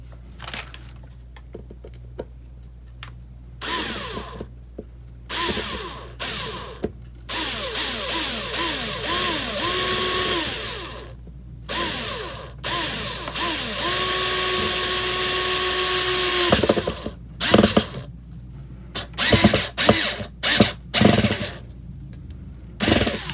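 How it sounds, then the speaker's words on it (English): A power drill whirs in repeated bursts, its motor pitch rising and falling as it drives a screw into a surface set on Dixie cups, with short pauses between runs. "A little hard because I'm drilling on top of these Dixie cups."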